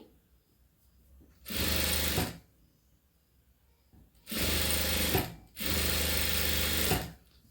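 Sewing machine stitching fabric for a dots-and-cross strip, three loud, even bursts of fast mechanical whirring, one short and two longer, separated by quiet pauses.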